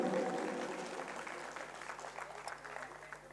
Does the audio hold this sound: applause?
yes